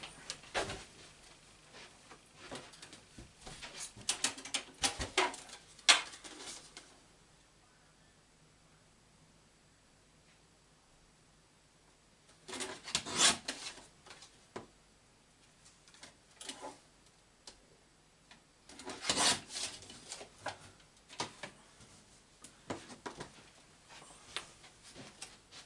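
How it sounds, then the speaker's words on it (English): A paper guillotine trims cardstock in short bursts of rustling, sliding and slicing noise at close range, separated by long quiet gaps. "Using my guillotine, that's better."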